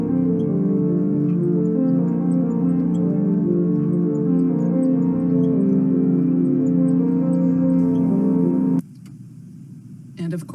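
Pipe organ sounding principal and harmonic flute stops together: a full, sustained chord held steady and loud for about nine seconds, then released, leaving a faint room echo and a brief rustle.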